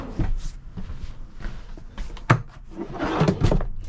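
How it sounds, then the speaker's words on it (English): Small pull-out drawers beneath the bench of a 2024 Lance 975 dry bath truck camper slide and knock, with scraping wood-like rattles and a sharp thump near the middle, close and fairly loud without speech. "got a couple little pull-out drawers here underneath the bench"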